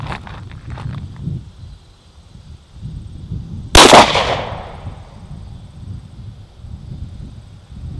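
A single sharp, loud gunshot from a Glock 43 pistol firing a 9mm Hornady Critical Duty 135-grain +P Flexlock round rings out mid-clip and decays over a low ambient outdoor rumble.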